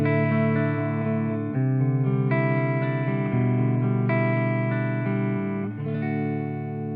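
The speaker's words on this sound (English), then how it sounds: "so I'm playing my 1981 Ibanez AS100 all stock, which is a lovely guitar, and it sounds like this." A stock 1981 Ibanez AS100 electric guitar on the neck pickup, played through an effects pedal: loud, sustained ringing chords that change every second or two, with a lush effected tone and no talking.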